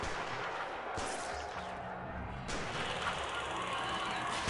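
Sustained gunfire in the prison management game Prison Architect, a dense continuous rattle of shots with sharp louder bursts near one and two and a half seconds, no talk.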